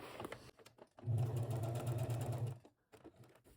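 A sewing machine runs in a short, steady burst of about a second and a half as it stitches the lining of a fabric bag closed. Quieter handling noises come before and after the run.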